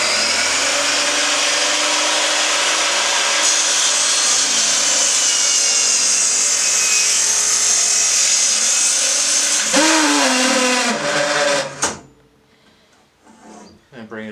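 Miter saw motor running up and cutting through wood at a 90-degree setting, a loud sustained whine filling nearly the whole stretch, then spinning down and stopping near the end, followed by quiet.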